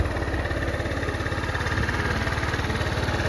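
A 2025 XPro Capri 150cc scooter engine idles steadily up close, a loud, even, fast low-pitched putter with constant rumble and no voices.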